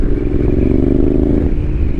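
A 2021 Yamaha Tenere 700 adventure motorcycle engine chugs close by with a loud, rough low throb, rumbling steadily off-road without pause.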